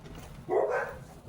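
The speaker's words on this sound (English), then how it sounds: "It's full of dogs." A single muffled dog bark or yelp from indoors in a house full of dogs, one short burst against quiet background.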